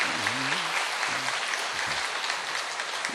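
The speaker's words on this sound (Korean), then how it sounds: "박수로 환영하겠습니다" Church congregation applauding during a Korean worship service to welcome a newcomer, a soft, even patter of many hands with a brief low voice at the start.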